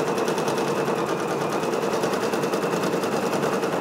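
Brother PRS100 embroidery machine stitching out a patch, a fast, steady mechanical rattle of needle strokes running continuously at an even rhythm, close and alone.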